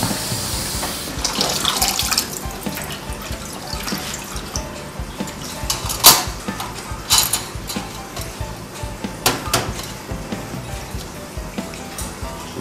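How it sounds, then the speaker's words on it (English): Water splashing and running while clock parts are rinsed in a tray after ultrasonic cleaning, steady tap-like flow with irregular louder splashes and drips, close and alone. "Splash water on it again."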